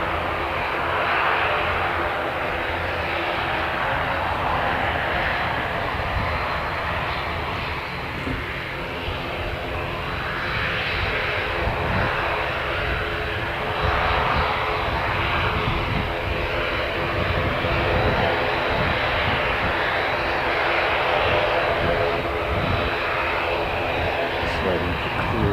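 An Air New Zealand airliner on flight NZ178 at Christchurch drones with a steady, continuous engine rumble and whine throughout, loud and sustained, with faint voices underneath.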